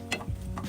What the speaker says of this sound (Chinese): 稍微搅拌一下